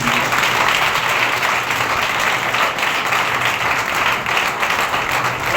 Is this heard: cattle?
no